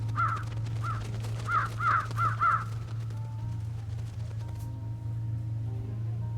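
A crow caws several times in quick succession within the Trüberbrook video game, clear calls in an uneven rhythm over a constant low droning hum, then fading to the ambient backdrop.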